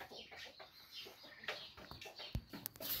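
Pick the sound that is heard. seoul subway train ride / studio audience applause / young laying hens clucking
young laying hens clucking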